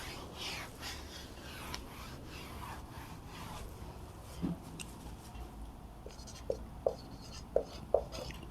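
Chalk or marker writing on a classroom board: soft scratching strokes followed by a run of short, sharp taps and squeaks, faint and close.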